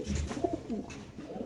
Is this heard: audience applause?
no